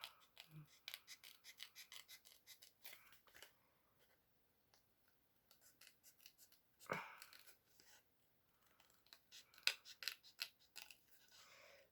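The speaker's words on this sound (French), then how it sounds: "Et là, je vais venir le découper." Scissors snipping through thick, reinforced decorative paper for a craft page, a series of quiet close cuts spread across the clip with brief gaps and a couple of sharper snips, no talk.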